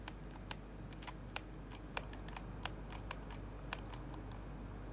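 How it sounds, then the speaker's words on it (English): A faulty Razer computer mouse button clicks sharply and close by, about a dozen irregular clicks in quick succession with no talking. "So it's like sometimes clicks, sometimes doesn't."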